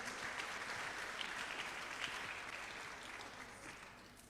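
A church congregation applauds in honour of the King of Kings during a sermon, producing faint, diffuse clapping from a roomful of people that slowly tapers off.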